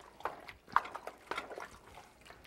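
Canned tomatoes and vegetables being stirred in a large pot for vegetarian chili, a few soft, wet squelching and slopping strokes, quiet and close.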